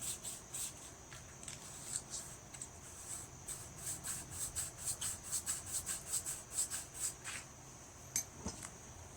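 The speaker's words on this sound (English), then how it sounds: "you're sanding the valve seat is what you're doing" An engine valve seat lapped by hand on a Briggs & Stratton 21HP Intek engine: rhythmic scraping and rubbing, a quick back-and-forth grind repeated many times at close range, fairly quiet with no voices.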